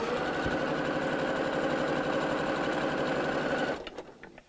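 A sewing machine runs fast and steady stitching through several layers of burlap for pumpkin decorations, a loud continuous mechanical whir that stops abruptly near the end, followed by a few faint clicks.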